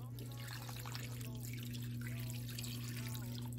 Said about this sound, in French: Et donc là, je veux rajouter un peu d'eau.